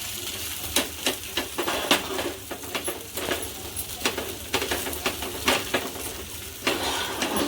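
A masala dosa fries on a pan over medium gas while a vegetable filling is spread across it, giving a soft sizzle broken by repeated scraping and tapping strokes, fairly quiet and close, with no voices.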